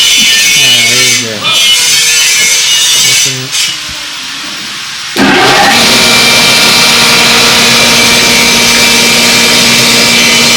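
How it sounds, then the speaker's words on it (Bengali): A rice milling machine starts up again after a jam of rice is cleared inside it. It begins as a sudden loud, steady mechanical roar and whine that keeps going, with voices talking over quieter machine noise just before. "জাম লেগে গেছে চাল ভিতরে, মেশিনের ভিতরে জাম ছোটানো হচ্ছে, আবার স্টার্ট হয়ে যাবে মেশিন।"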